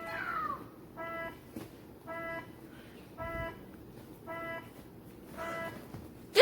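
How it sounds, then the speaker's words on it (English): Spiny enemies in a video game music level sound as a series of short, buzzy synthesized notes, each rich in harmonics, repeating in a steady rhythm with brief gaps between. "So this is what Spinies sound like."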